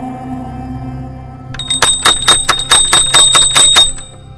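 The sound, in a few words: bell clanging rapidly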